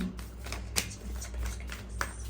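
Tarot cards are shuffled by hand, giving soft, close flicks and a few sharper snaps over a steady low hum.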